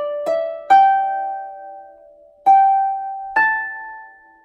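A harp plays a short section of Raglan Road: four plucked notes in a slow, uneven rhythm, each ringing on and decaying, played alone, close and clear.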